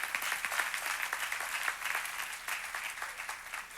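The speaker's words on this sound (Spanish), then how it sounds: "O dale ese aplauso a Él." Congregation applauding during a Spanish-language church service, a steady, moderately distant wash of many hands clapping throughout the short stretch.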